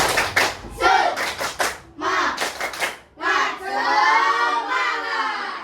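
A school class does a rhythmic spirit clap: bursts of quick patterned clapping mixed with children's shouted chanting, ending in a sustained loud group shout.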